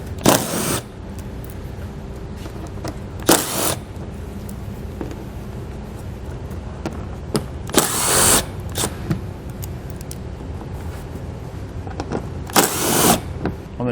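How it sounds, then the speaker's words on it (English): A power tool removes 8mm bolts from the driver's side quarter panel of a 2020 Chrysler Pacifica, in three short whirring bursts spaced several seconds apart over quiet garage background. "Along our driver's side panel, quarter panel here, we'll start removing our 8mm bolts."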